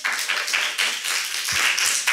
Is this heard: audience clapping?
yes